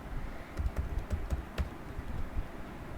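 Password typed on a computer keyboard, with quick irregular key clicks over about a second and a faint room hiss, and no talking.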